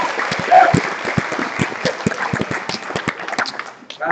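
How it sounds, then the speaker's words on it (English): A youth leadership conference audience gives a round of applause, with many distinct claps scattered over a lively, sustained patter that tapers off toward the end. "Give them a round of applause, guys."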